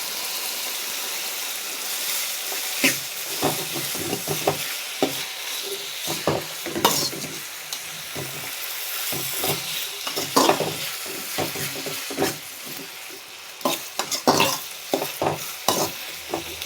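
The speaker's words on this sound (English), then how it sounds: "இப்போது பச்சை வாசனை போகிற வரைக்கும் நல்லா வதக்குங்க" Ginger garlic paste sautés in a hot pan with a steady sizzle, while a spoon scrapes and stirs in frequent sharp strokes throughout, close and fairly loud.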